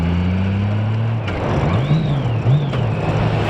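A car engine hums steadily, then a gear change misses and the transmission gives a brief, loud grinding crunch up close before the revs settle, with no talk.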